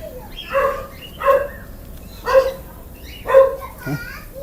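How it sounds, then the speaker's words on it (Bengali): A dog barks in short, evenly spaced bursts, four or five times in a row, at the Batu Caves in Selangor, Malaysia, with people's voices around it. "ওমা কুত্তা ডাকতেস"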